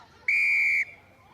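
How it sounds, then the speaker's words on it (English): A referee's whistle gives one loud, sharp blast of about half a second to award a penalty during a rugby sevens match between Brazil and Spain at the Dubai leg of the World Sevens Series. "they get the referee's whistle decision as well for a penalty"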